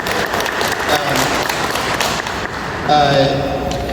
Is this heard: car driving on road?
no